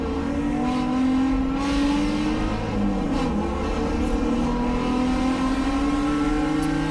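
Race cars, including a BMW E30 M3, roar off the line at a race start on an icy track, engines revving and climbing loudly through gears in a dense, close, continuous snarl.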